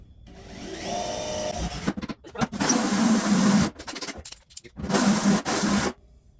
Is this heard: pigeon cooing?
no